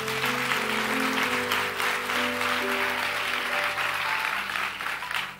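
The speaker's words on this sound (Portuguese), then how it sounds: "Dá um aplauso bem forte a Deus nessa manhã." Strong, sustained applause from a church congregation at a Portuguese-language Christmas Eve morning service, dense clapping throughout over held keyboard notes.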